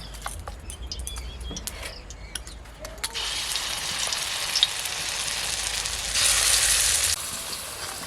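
Shiuli leaf fritters fry in a little hot oil in a village kitchen, a steady soft sizzle that swells louder midway as batter goes in, with faint bird chirps and light clatter around it.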